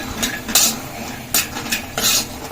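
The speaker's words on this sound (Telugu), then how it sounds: "ఫస్ట్ అయితే కొంచెం పల్లీలు వేయించుకోవాలి కొద్దిగా ఆయిల్ వేసుకోవాలి" Peanuts roasting in a little oil in a pan, with four sharp scrapes and clinks of a spoon against the metal over a soft sizzle, close, no voices.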